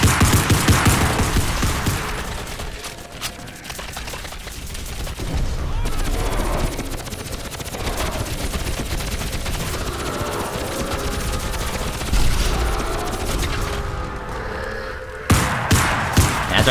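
Continuous gunfire and explosions crowd a Crysis Remastered battle, loud and dense throughout with rumbling blasts, a few crisp pistol-like shots standing out near the end.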